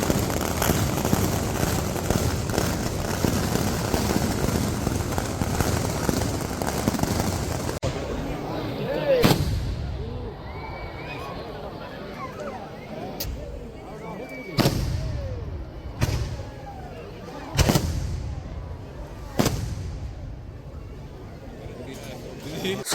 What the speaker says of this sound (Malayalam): ഗുണ്ടുകളും പടക്കങ്ങളൊക്കെ പൊട്ടാൻ തുടങ്ങിയിട്ടുണ്ട്